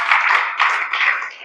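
An audience at a health camp breaks into a short burst of dense, loud applause, many hands clapping together for a second and a half.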